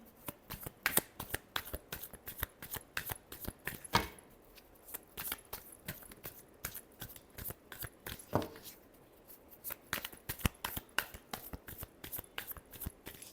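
Tarot cards being shuffled by hand, close and crisp, with rapid riffling bursts and flicking taps repeating over several seconds and a few louder slaps of the deck, no voices.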